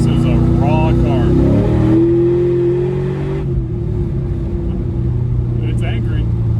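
A 2000 Ford Mustang Cobra R with a Bassani side exhaust revs up and holds a rising, throaty tone, then settles to a lower steady drone; no one speaks.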